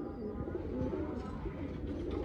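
Fancy pigeons offered for sale, Royal Teddy, Kalpara, Kalduma, Jeeriya and Phulsira breeds, give soft, low repeated coos close by, with faint background noise and no talking.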